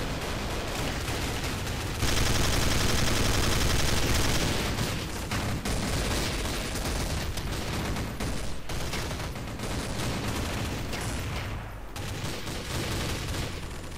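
Dense, continuous gunfire from a Counter-Strike: Source gun game match, rapid overlapping shots and bursts filling the whole stretch, loud and close, with a brief louder surge early on.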